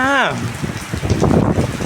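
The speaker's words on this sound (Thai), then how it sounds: "ฝนตกแล้ว พี่น้องฝนตกแล้ว แรงเลยพี่น้องนี่อ่า" Heavy rain pours steadily in a late-October downpour with wind, a loud dense hiss throughout, while a voice talks over it at the start.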